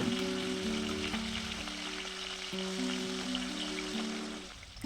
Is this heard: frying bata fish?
yes